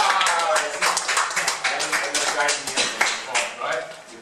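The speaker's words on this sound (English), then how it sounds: "Right, clap your hands." Audience members at a speakers' event clap their hands in a loose, uneven rhythm of sharp claps close by, with some voices and cheering mixed in among the claps.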